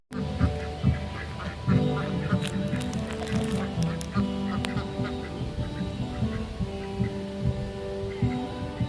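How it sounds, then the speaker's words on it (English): A group of ducks quack and honk steadily in a repeating chorus, nearby and moderately loud, with a low hum running underneath. "I wanted to cut into those ducks because they're just so majestic and adorable."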